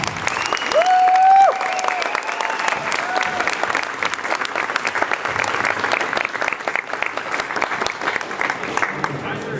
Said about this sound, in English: give him a lovely round of applause as he approaches the talk